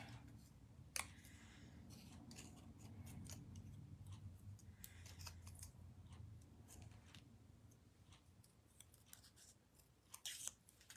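Scissors snipping paper for a winter holiday card, a steady run of small quiet close cuts and clicks with a couple of louder snips, no talking.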